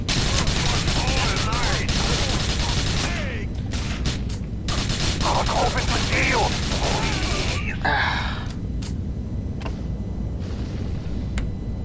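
Sustained gunfire from a shootout in GTA 4: The Ballad of Gay Tony, with rapid bursts and sharp shots crackling densely for several seconds, then scattered louder reports, all under excited voices and gasps.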